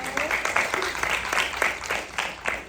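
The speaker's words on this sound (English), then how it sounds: "So, clap it up." A podcast audience claps for a few seconds at the close of a women's basketball segment, a light, scattered patter of hands with a faint voice underneath.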